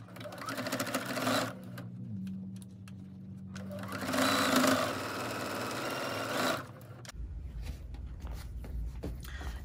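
A sewing machine stitches a small fabric tray with batting, running in two bursts of steady whirring separated by short pauses, then stopping as low handling noise takes over.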